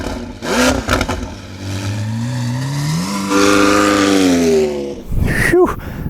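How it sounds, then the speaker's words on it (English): A McLaren 720S with a brand-new Stage 2 aftermarket exhaust revs loudly and close, rising in pitch through a long sweeping pull before dropping off, with short sharp blips at the start and end. "a brand new exhaust"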